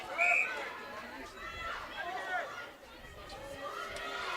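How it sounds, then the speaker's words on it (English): Crowd at a netball preliminary final between the Raiders and the Roos, a steady wash of chatter and cheering with a louder burst near the start, moderately distant. "The crowd really getting involved early here"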